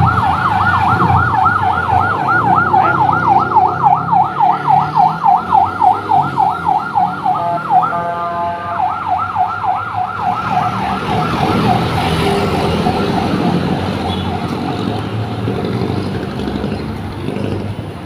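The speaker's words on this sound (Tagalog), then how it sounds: "Ambulansya guys, oh." An ambulance siren passing close by on a road, its loud rising-and-falling wail cycling rapidly, briefly switching to a different pattern, then fading as traffic noise continues.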